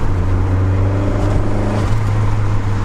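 A rear-wheel-drive Lotus Esprit Turbo pulls hard, its engine a loud, steady low drone heard from inside the car with no voices over it.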